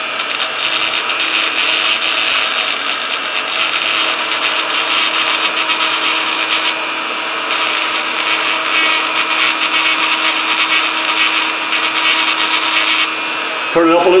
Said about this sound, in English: So you put in the diamond, little diamond round head here. And you turn on your Dremel and you do circular movements.